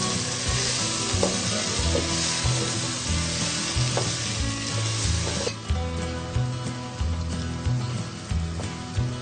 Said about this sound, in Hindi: अब हम इसमें दाल डालेंगे। अब मजीद हम 3 से 4 मिनट और इसको भूनेंगे।